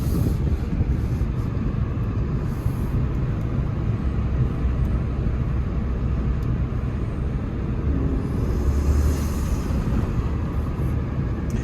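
A 2023 Kia K5 GT-Line on a drive, heard as a steady low road and engine rumble with tire noise from inside the cabin, continuous and even.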